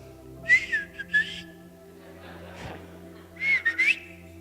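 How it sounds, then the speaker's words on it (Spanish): Two short phrases of melodic whistling by a person, clear and fairly close, separated by a brief pause with faint background hum. "las familias tienen un sonido específico, un silbido"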